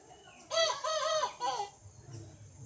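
A native desi chicken gives a loud, drawn-out call in two stretched phrases, close by, followed by quieter clucking against a calm background.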